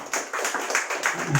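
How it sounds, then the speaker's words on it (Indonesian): Brief burst of audience applause at a community health session on first aid for fainting, a short stretch of dense clapping with faint voices underneath. "Tepuk tangan."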